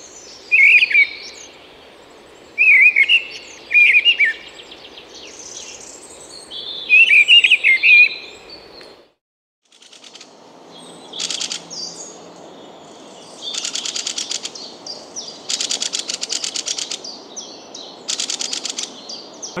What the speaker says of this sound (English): Firstly, it's the call of the minstrel thrush, followed by the alarm, and here they are.